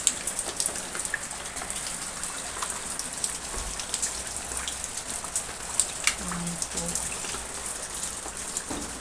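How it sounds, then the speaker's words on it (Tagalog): Steady rain falls outside a house in a flooded area, a dense continuous patter of drops on surfaces at moderate level, with a few brief louder splashes and no talking. "Ulang-ulan na naman din sa amin sa labas."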